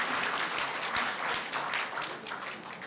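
Applause from an audience at a Korea University student newspaper's 70th anniversary ceremony, a dense, steady wash of clapping that stays loud throughout and tapers slightly at the end.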